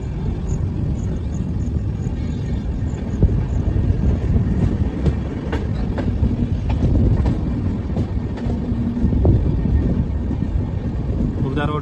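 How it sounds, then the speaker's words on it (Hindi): Shatabdi Express train running through Khurda Road station, a steady, loud rumble of wheels and carriages with faint clicking over the rails throughout, heard from on board. "अभी हम लोग train Khurda road station skip करने वाली है"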